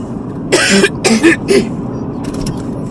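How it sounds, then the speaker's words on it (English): Three quick, harsh throat-clearing bursts in close succession, loud and close, followed by quieter rustling. "Let me clear my throat."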